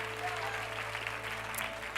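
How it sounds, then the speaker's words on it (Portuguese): A church congregation at a conference applauding, dense steady clapping from a large crowd filling the whole moment. "se você crê nisso, aplauda o nome dEle"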